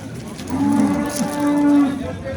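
A cow gives one long, close, loud moo with a brief catch in the middle, alone without other voices, at a livestock market in Andijan.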